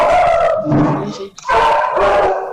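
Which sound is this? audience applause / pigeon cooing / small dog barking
small dog barking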